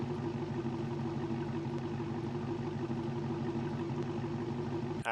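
A Hellcat-powered cop car engine in BeamNG.Drive, a steady, faint mid-pitched idle hum with even harmonic tones throughout and a small click at the very end.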